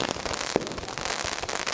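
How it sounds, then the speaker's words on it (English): Fireworks and firecrackers go off across a crowded beach in China, a continuous crackle of nearby pops with one sharper bang standing out, all under a dense background roar. "fireworks in front of me, fireworks everywhere."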